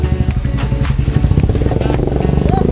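A motorcycle engine rumbles steadily throughout, close by and loud, with voices talking over it.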